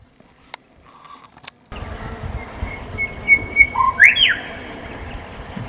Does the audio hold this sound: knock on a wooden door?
no